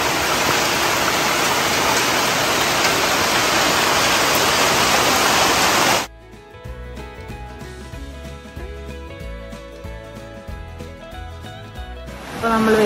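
Heavy monsoon rain pours in a dense, loud hiss for about six seconds, then cuts to a quieter indoor stretch with faint tonal sounds before the rain noise returns at the end.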